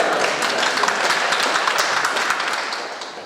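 An audience at a panel discussion during Denver Startup Week claps, a dense steady patter of many hands held for a few seconds before gradually tapering off.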